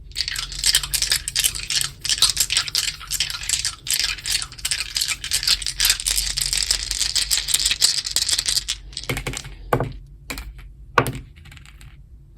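Five dice rattle and tumble across a surface during a tarot card reading, a rapid clattering burst of hard clicks for several seconds, then a few scattered knocks as they settle.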